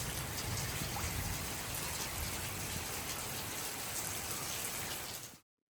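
Steady rain pours down on a home surrounded by greenery in Kerala, a dense even hiss of drops on surfaces that holds constant throughout before cutting off abruptly at the end.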